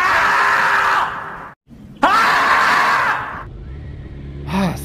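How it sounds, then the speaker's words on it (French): A man lets out loud, raw screams of frustration after being stopped by police during a motorcycle ride: one long yell, a brief silence, a second strained scream, then quieter rumbling. "attention, je vais crier."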